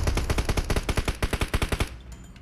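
Automatic gunfire in the mobile battle-royale game PUBG Mobile: a loud, rapid, evenly spaced burst of around twenty shots that stops abruptly near the end, with no talk.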